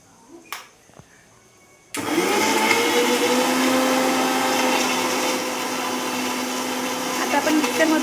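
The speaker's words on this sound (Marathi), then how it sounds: "आता आपण मिक्सरच्या भांड्यात थोडंसं नॉर्मल पाणी टाकून घेतो आहे आणि हे मिक्सरमध्ये फिरवून घेतो आहे" A mixer grinder whirs to life after a brief clatter, blending garlic and coriander with a little water into a paste, a loud steady motor roar that holds on to the end.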